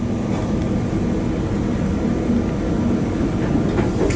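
A train at Bristol Temple Meads station on the Great Western Main Line gives a loud, steady, close rumble that lasts the whole stretch, with no voices.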